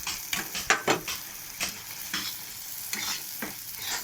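Egg curry being stirred in a frying pan with coriander leaves scattered over it, giving a close, steady sizzle broken by several sharp scraping stirs and clinks of the utensil against the pan.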